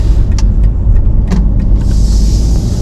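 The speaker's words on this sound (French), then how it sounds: "nous voilà à bord de cette BM 118D Pack M" Heard from inside a BMW 118d M Sport car while driving, a loud, steady low road-and-engine rumble fills the cabin, with a few faint clicks and rustles and no voices.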